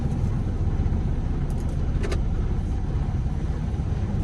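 A truck loaded with wood shavings rolls onto a weigh scale, its steady engine rumble continuous and fairly loud throughout, with a couple of faint metallic clinks partway through.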